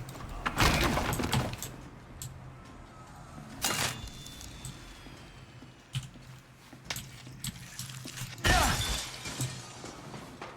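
Glass shatters in Outlast Trials, three sharp breaking crashes spaced several seconds apart, with quieter clinks and rustling in between against a low ambient hum.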